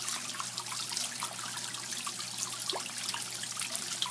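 Water trickles and splashes steadily through a koi pond trickle filter, a close, continuous babbling patter with small drips over a faint low hum, no voices.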